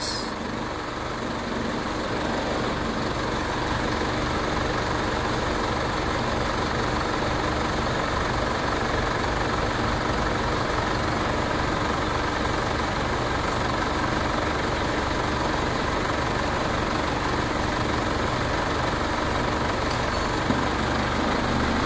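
An Isuzu MU-X engine idles steadily for the whole stretch, a continuous moderate mechanical drone and hum without revving or breaks, heard close and alone with no talk.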